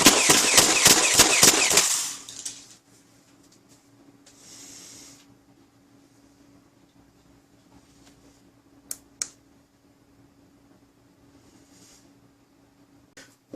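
An X-Shot motorized piston pump foam dart blaster fires full auto, giving about nine rapid, loud, evenly spaced shots in a two-second burst. Only faint background hiss and a couple of small clicks follow.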